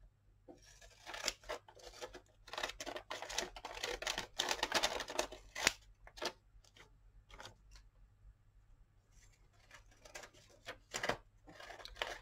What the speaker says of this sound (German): diese Schere, die ich hier benutze, diese Zickzack-Schere